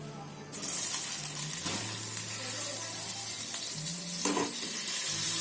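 Butter melts in a pan for butter chicken gravy, giving a sudden close sizzle that holds steady throughout, with a couple of faint clinks of a utensil against the pan.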